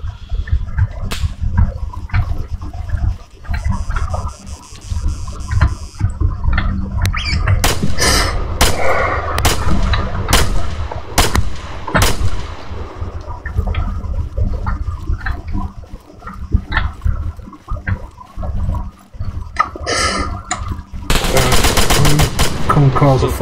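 Video game gunfire crackles in rapid bursts and single loud shots, close and dense, with quieter stretches between volleys and occasional player chatter underneath.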